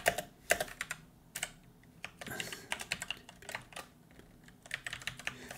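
Typing a password on a computer keyboard during WordPress SMTP setup, quick irregular bursts of close key clicks with short pauses, no talking.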